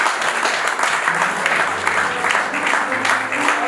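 A church congregation applauds and cheers in praise during a pastor's sermon, steady loud clapping with crowd voices rising and falling throughout, a preacher's voice partly audible over it.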